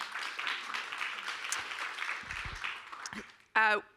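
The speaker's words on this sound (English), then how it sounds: "So big round of applause for our Good Systems team." Audience applause at a responsible AI in education event, a sustained broad wash of clapping from a room full of people that runs for several seconds before a voice cuts in at the end.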